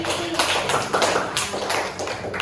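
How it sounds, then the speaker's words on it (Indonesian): Classroom pupils clap for a classmate, a short burst of uneven, close hand claps that rises and then tapers over a couple of seconds. "beri tepuk tangan dulu si Rani"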